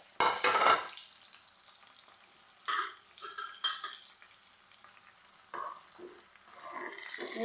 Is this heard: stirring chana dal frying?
yes